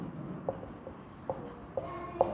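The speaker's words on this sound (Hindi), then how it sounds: "सॉल्यूशन लिखेंगे यहाँ पे" Pen or marker writing out a solution for a class 7 rational numbers exercise, a series of quiet scratching strokes with small taps, close and alone.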